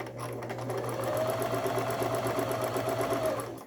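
A Brother XL5500 home sewing machine, just repaired, stitches steadily with a fast, even mechanical rhythm and a low motor hum, close and loud throughout with no talking.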